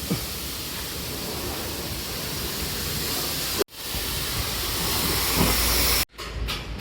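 A truck gets a water wash: a loud, steady broadband hiss of spraying water runs throughout, cut off abruptly twice before resuming.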